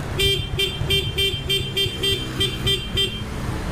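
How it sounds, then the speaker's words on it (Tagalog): A motorcycle horn honks in a rapid series of short, evenly spaced beeps during a registration inspection, loud and close, over a low engine rumble. "syempre hindi mawawala ang test ng busina"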